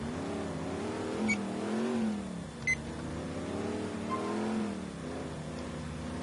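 A truck engine drones in GTA 4 as it drives, revving up and down in repeated swells with a steady mid-pitched hum, close and continuous, with a couple of brief clicks along the way.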